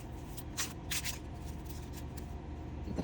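A tarot card deck is shuffled close by, with quick papery flutters and slaps in short bursts over a quiet, steady background.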